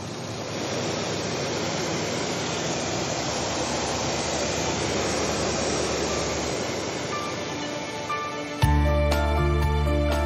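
Light aircraft in flight over the Rhône near the Bugey mountains, a loud steady engine and wind drone heard from inside, ending with a sharp shift to a lower, more tonal engine hum.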